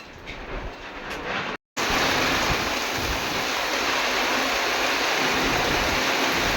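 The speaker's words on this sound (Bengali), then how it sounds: "দেখতে দেখতে বৃষ্টিও চলে এলো, কিরকম বৃষ্টি হচ্ছে দেখুন।" Heavy rain pours down outside a rural home on a muddy road, a loud, dense, unbroken hiss that fills the whole clip apart from one brief cut.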